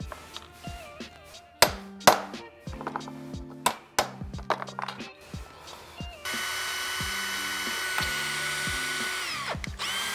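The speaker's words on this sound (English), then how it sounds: "we need to do the same on the bracket and run a tap through it" A power drill bores through an aluminium bracket in short bursts, with sharp metallic taps and knocks between them, then a steady whirring hum takes over near the end, all close and fairly quiet.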